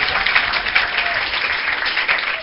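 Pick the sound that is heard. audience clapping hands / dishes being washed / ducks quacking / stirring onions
audience clapping hands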